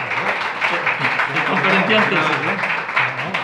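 Lecture audience applauding in Salamanca, steady dense clapping throughout under a voice speaking over it.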